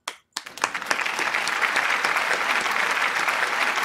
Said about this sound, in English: because even if I did, I'm clapping again.